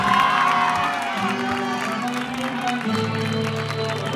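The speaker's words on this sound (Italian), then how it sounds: "ve lo fate sentire un applauso" A crowd at an outdoor Calabrian folk music concert in Arena cheers and shouts loudly, with sustained tonal music playing underneath and no clear break in the noise.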